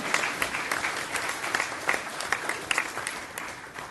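Scattered applause from a school board meeting audience, a modest room of hands clapping steadily for a few seconds, fairly close and unaccompanied by speech.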